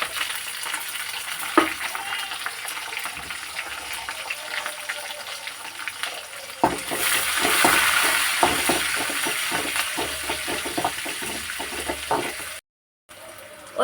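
Oil sizzling and crackling steadily in a pan as mustard and fenugreek seeds fry, becoming louder and denser partway through as curry leaves and small onions are tossed in. No one speaks.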